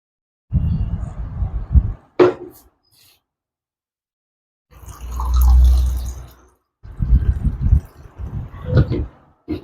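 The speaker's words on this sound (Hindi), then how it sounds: "हम 2 मिनट के लिए पानी पी लेते हैं" Water trickles and drips as it is poured, followed by a steady swell of liquid, then gulping and swallowing sounds close to the microphone, with short pauses between; no talking.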